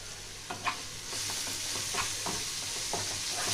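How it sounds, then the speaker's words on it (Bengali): Chili powder, turmeric and Kashmiri chili fry in a pan for a raw banana kofta curry. A soft, steady sizzle runs under repeated scraping stirs near the pan. "এবার সব মশলা ভালো করে মিশিয়ে ভালো করে কষতে হবে যতক্ষণ না কাঁচা গন্ধটা যায়।"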